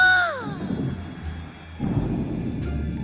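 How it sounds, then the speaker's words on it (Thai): Thunder from a lightning strike inside a Roblox horror maze game, a low rumbling roll that swells and fades, then returns with a second broad rumble, mid-level and alone without talk. "มีเสียงฟ้าผ่าด้วย"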